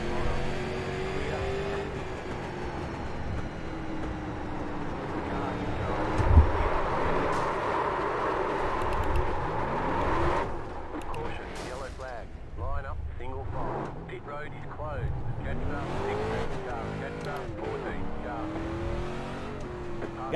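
Street stock cars racing on the Lanier National short track in the iRacing simulator, engines droning and revving continuously with a brief loud bump, while someone talks over the racing.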